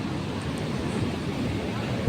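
Sea surf at Ganpatipule on the Konkan coast, a steady low wash of waves mixed with wind buffeting the microphone, continuous and fairly loud for a short moment.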